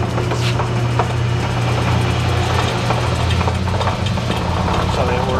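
Rockwell 11 inch tool room lathe with a Reeves variable-speed drive spinning at its high setting, about 1550, giving a steady loud mechanical hum and whir with faint rattles throughout.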